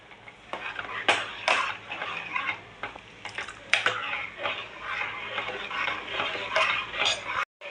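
A spoon stirs black pea curry in a metal pan just after water has been added, scraping and clinking against the sides in an irregular rhythm, with a faint sizzle beneath, close up and moderately loud.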